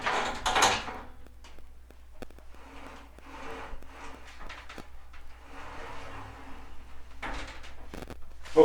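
Sliding glass shower doors are rolled back and forth along their track after installation, giving soft rumbling glides, light knocks and rubbing scrapes at close range, with no talk.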